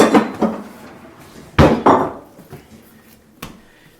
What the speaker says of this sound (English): use two of these small round cast iron loaf pans